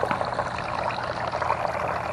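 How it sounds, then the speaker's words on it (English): A garden water feature splashes and pours in a constant, close, bubbling rush of falling water, heard alone without talk. "And there's that wonderful water feature."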